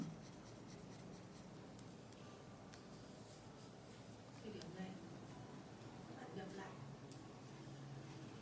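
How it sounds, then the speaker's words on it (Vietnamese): Water-based felt-tip marker rubbing across paper while coloring a flower-and-puppy picture, giving a soft, continuous scratchy stroke sound close by, with a person talking over it throughout. "đây là cái loại bút màu dạ nước nên là nó sẽ hơi ướt một chút cho cái tờ giấy của chúng ta"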